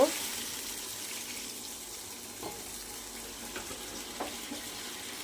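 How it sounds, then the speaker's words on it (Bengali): Water poured into a pan of parshe fish curry with potato and pointed gourd, a faint, steady wash with a few soft splashes and bubbles over a quiet kitchen background. "এবার আমি অল্প জল দেব"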